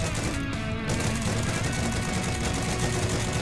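Continuous machine-gun fire from a tank gunner's position in a Battlefield-style shooter, a dense unbroken rattle that stays loud and close throughout.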